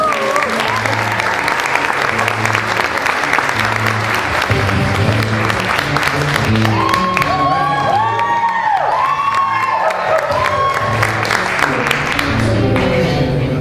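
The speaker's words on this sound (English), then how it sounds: "Give them one more round of applause." An improv class audience gives loud, sustained applause with cheering, whoops and shouts, a dense wash of clapping throughout while a voice rises over the crowd in the middle.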